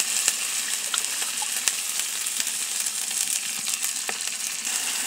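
Fried spices with garlic sizzling in a pan after water is poured in, a steady dense hiss with scattered crackles and pops, close and without any talk.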